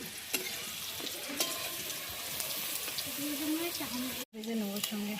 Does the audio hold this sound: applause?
no